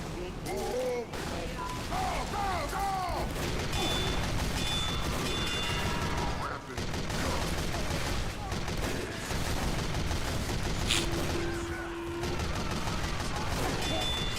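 Gunfire crackles through a video game mission, with sniper shots mixed into a steady stream of firing that keeps going under game music and effects for the whole stretch.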